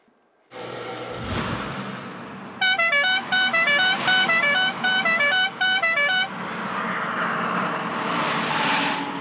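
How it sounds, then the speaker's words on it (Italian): A melodic multi-tone horn on a classic Italian film car plays a rapid repeated tune over a roaring engine, loud and close, with traffic noise continuing afterward. "quel mito mitico clacson, ve lo ricordate? Eccolo qua."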